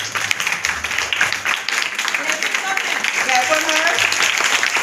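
A class of schoolchildren claps for a prize winner at a school commemoration event, scattered applause building into a steady patter under an adult voice speaking.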